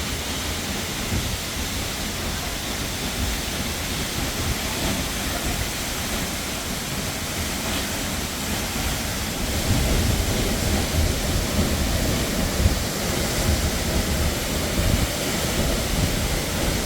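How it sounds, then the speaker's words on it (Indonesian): Curug Penganten, twin waterfalls about 50 meters high, pours into a clear natural pool, a steady dense roar of falling water that never lets up, loud and close, with no voices. "dua air terjun dengan ketinggian sekitar 50 meter yang jatuh ke kolam alami yang sangat jernih"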